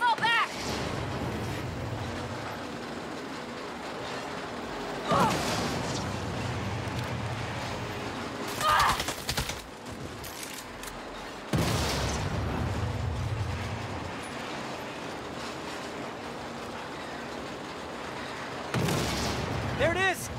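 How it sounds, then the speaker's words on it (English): Bursts of explosions and gunfire erupt from the Saints Row video game during a train heist mission, heavy booming blasts recurring every few seconds over a lower rumbling din, with speech mixed in. "I'm seeing explosions all over."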